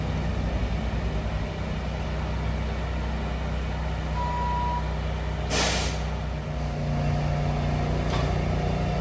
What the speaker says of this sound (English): Drive the truck out from underneath it.